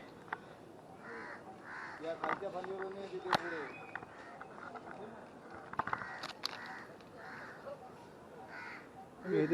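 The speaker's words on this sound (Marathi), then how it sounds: "तर झाडावर कावळा अडकला आहे" A crow caught in kite string up in a tree caws in scattered harsh calls amid outdoor rustling and knocks, while people talk nearby during the rescue.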